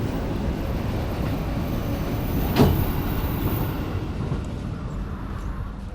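Steady low rumble and rolling hum inside a moving KA Taksaka passenger train between Jakarta and Yogyakarta, with one brief louder clack or rattle partway through and no talking.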